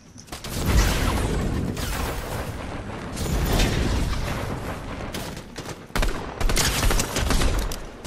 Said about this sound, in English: Oh, there's gunfire right there.